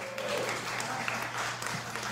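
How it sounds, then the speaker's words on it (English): An audience at an elegant evening event applauds, steady crowd clapping that sounds somewhat distant and moderate in volume, with faint chatter underneath. "Give her a round of applause."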